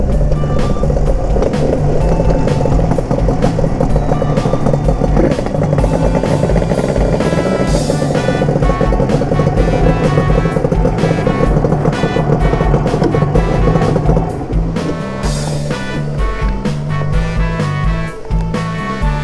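Suzuki RG250 two-stroke motorcycle with a SUGAYA expansion chamber on a test ride, its engine droning loudly and steadily close by, revving and shifting through the run with a slight drop in level near the end.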